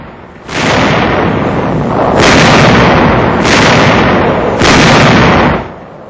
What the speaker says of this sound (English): A heavy artillery barrage prepares the way for the infantry advance.